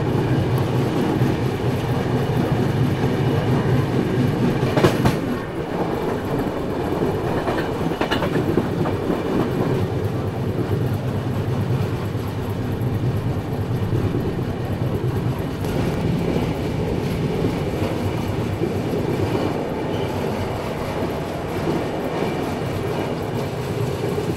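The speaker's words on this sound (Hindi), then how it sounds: "एल्को लोकोमोटिव" A passenger express train hauled by an Alco locomotive rolls past Ajni station in India, its wheels clattering in a steady rhythm over the rails, with a loud thump partway through and continuous rumbling.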